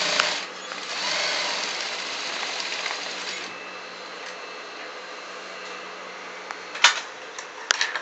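A sewing machine stitches the piping of a double-piped besom pocket in steady, close-up bursts that whir evenly for several seconds, then fall away to quieter handling noises and a few sharp clicks near the end.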